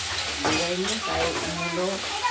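Radish and bori curry cooks in a pan that is being covered, with a steady sizzle and soft stirring scrapes running together while a voice murmurs or hums in the background.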